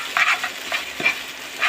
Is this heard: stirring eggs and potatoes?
yes